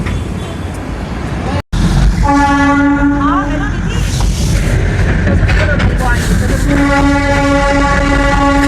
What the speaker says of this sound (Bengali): ওই যে স্টিম ইঞ্জিনটাও হর্ন দিচ্ছে